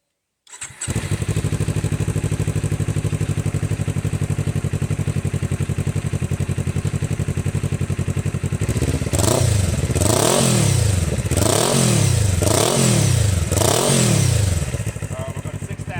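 A motorcycle fitted with a cheap slip-on exhaust, baffle and dB killer still in place, idles steadily and loudly before rising into a series of about five rhythmic throttle revs, close to the mic.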